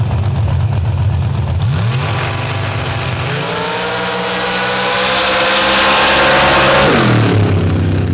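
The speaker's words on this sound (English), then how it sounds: "Very straight pair of runs, and Butcher will take the top time there" Drag racing cars of the MRA Pros and Superstocks classes roar through side-by-side qualifying runs at Steelville in 2024, loud close engines surging as their pitch climbs steadily under heavy acceleration.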